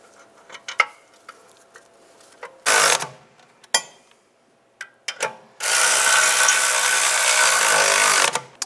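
On a 2004-2010 BMW X3, the rear brake caliper bracket bolts are driven with a ratchet, giving scattered clicks and short bursts, then a long sustained whirring run.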